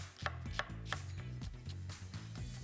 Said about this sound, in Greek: Κόβουμε το κρεμμύδι μας, το ψιλοκόβουμε.